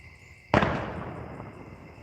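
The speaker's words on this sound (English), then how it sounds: "Big firework, baby." A single big firework bursts loudly at a celebration, a sharp boom followed by a long crackling, fading tail over a steady background hum.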